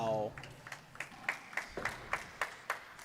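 Scattered clapping from a small crowd at a pickleball semifinal, coming as a string of separate claps that follow a brief tone at the start.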